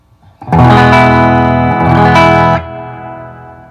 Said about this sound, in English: that's my clean sound through my Fender with just some reverb